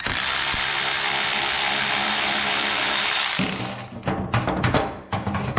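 A ratchet, likely powered, removing nuts from a regulator bracket on a Turbo V-Rod with a massive oil leak, a loud buzzing whir for about three seconds, then a few short clicking bursts and handling noise up close.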